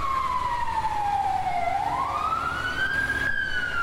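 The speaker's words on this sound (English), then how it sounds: "let's kill the siren and all the things." Fire engine siren from a forestry service wildfire response, a loud close wail that sweeps down in pitch and then rises again over a steady roar of background noise.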